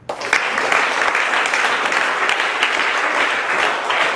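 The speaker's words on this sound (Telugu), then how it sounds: "క్లాప్స్ ఇవ్వండి" Applause from an audience at a hostel warden's felicitation ceremony, steady dense clapping that holds for several seconds, fairly loud and continuous with no talk over it.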